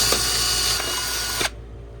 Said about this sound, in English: drill out these rivets for the CV boot protectors